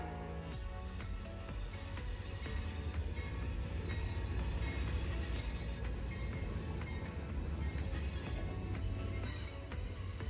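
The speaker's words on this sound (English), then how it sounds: "a horn sounds in the distance and Amtrak Texas Eagle Train 22 pulls in." Amtrak Texas Eagle Train 22 rumbles steadily nearby as it pulls into a station, wheels clattering on the rails, loud and continuous without voices.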